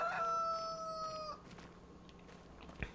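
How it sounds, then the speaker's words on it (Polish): In the farm game Farming Simulator 25, a rooster lets out a loud, clear crow, and then chickens cluck quietly in a farmyard while faint ambient clatter continues, with no talking. "tu jakieś kury sobie spacerują na, na podwórku"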